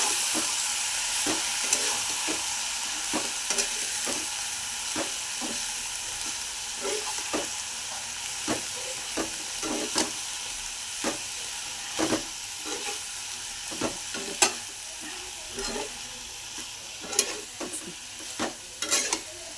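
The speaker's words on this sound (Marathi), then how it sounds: "कोबी सर्व फोडणी एकत्र करून घेतलेली आहे" Shredded cabbage with tempering stirred and fried in a pan, with steady close sizzling punctuated by repeated scraping clicks of a spoon throughout, no voices.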